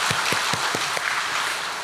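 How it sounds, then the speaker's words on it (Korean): A church congregation claps together during a service, making a loud, continuous wash of applause with a few distinct louder claps near the start. It holds steady at the same level for the rest of the clip. "우리 그런 아버지께 감사 박수 올려드리겠습니다."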